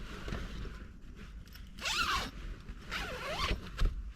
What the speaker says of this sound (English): Fucking zipper.